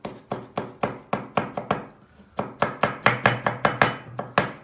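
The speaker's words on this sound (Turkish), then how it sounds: "Bunu karıştırırken bir taraftan da ıspanağımızı doğrayın." Spinach being chopped with a knife on a board, a steady run of sharp, close knocks in quick rhythmic bursts with a brief pause in the middle, no voices.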